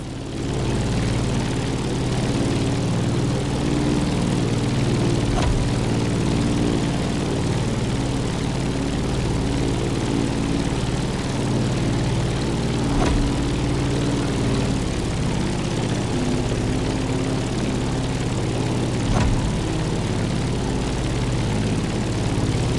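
A propeller aircraft in the racing game The Crew Motorfest climbs with a steady, loud droning engine that holds for the whole stretch, with only a few faint ticks breaking the constant hum.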